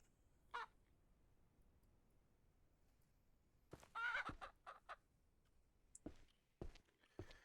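Chickens in a ranch simulation video game cluck and squawk in short bursts at irregular intervals over quiet background noise.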